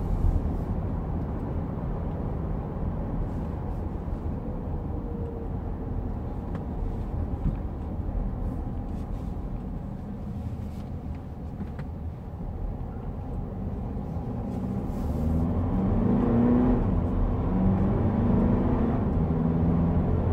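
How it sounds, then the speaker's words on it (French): An Infiniti QX30 with a 2.2-litre diesel engine runs steadily, a low, even drone heard from inside the cabin that swells slightly louder toward the end. "Infiniti a vraiment soigné la sonorisation puisque ce bloc n'est pas connu pour être le plus discret"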